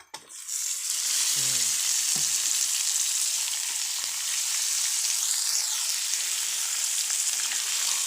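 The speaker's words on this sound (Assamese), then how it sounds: "এইফালে পিঁয়াজ তেজপাত দি ভাজি আছে" Meat frying in a pan with onion and bay leaf produces a loud, unbroken sizzle that swells quickly at the start and holds steady, with a few faint scrapes of stirring.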